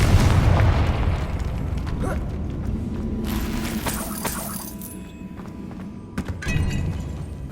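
A Confringo spell blast in the Hogwarts Legacy video game, a loud booming burst at the start that rumbles and fades, with a second smaller pop near the end.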